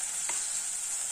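Tomatoes fry in a pan for tomato rice, a steady close sizzle with one brief scrape of stirring partway through.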